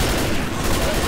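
Sustained gunfire from the video game Left 4 Dead, a dense, loud, continuous burst of shots filling the whole moment with no pause.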